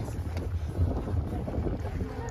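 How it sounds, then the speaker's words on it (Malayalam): Strong gusting wind buffets the microphone on a trek up Meeshappulimala mountain peak in Munnar, a loud, steady low roar with no clear talk over it. "കാറ്റ് കാരണം ശബ്ദമൊന്നും കേൾക്കുന്നില്ല."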